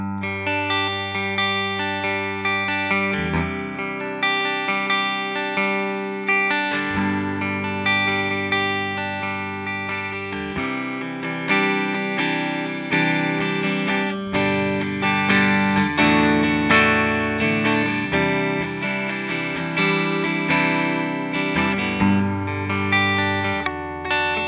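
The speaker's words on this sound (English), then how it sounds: "Dirty tones come from a Marshall" A Gibson Les Paul electric guitar plays through a Marshall JMP1 preamp with a heavily distorted tone, moderately loud chords and sustained notes continuing steadily, with effects adding a shimmering, slightly echoing edge.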